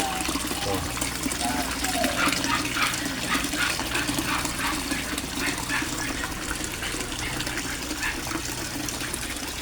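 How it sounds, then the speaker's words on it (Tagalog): Resun aerator pump bubbling and gushing hard in a backyard koi pond, a steady loud wash of water with a low motor hum, while someone talks over it. "Oh, ang lakas-lakas ng aerator"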